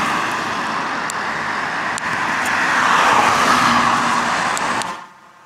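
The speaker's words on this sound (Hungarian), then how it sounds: "itt jönnek-mennek az autók" Steady traffic noise from cars passing close by on a road, swelling as one vehicle goes past before the sound cuts off abruptly.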